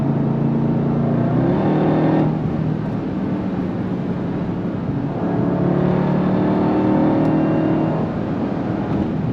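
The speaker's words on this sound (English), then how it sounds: "The sound of that V8." A 2026 Dodge Durango Hellcat Jailbreak's V8 roars loudly and continuously from inside the cabin, its deep engine note rising and falling as the throttle opens and eases.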